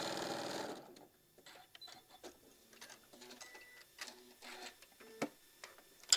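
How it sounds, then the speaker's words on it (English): A sewing machine stitches a quarter-inch seam on pieces for a maple leaf table runner, starting with a brief loud burst of running and then settling into faint, scattered ticks and clicks of the mechanism. "We're going to sew 1/4 of an inch all the way down the other side."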